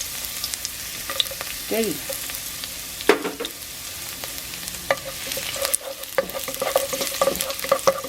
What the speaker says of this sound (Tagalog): Kaya konti lang itong cooking oil para lang ma-saute yung bawang.